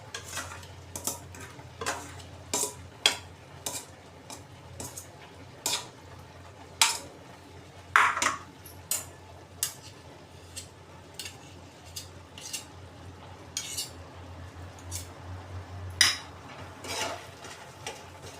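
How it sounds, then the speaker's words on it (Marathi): Mawa is stirred into thickened reduced milk in a pan for an orange burfi, with repeated scraping and clinking of a spoon against the metal in an uneven rhythm over a low background hum. "मावा चांगला असा मिक्स करून घेऊया."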